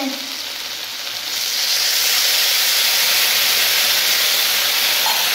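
A sudden loud hiss as water hits a hot frying pan, swelling into a steady, continuous sizzle and steam that fills the rest.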